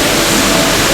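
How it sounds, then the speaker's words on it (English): Indoor waterfall inside a Dubai shopping mall, a steady, loud broadband rush of falling water filling the space without a break for the whole second. "Inside this mall they got a waterfall."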